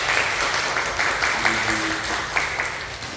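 Warm applause from a church congregation fills the room, steady and moderately loud, with a faint voice murmuring underneath.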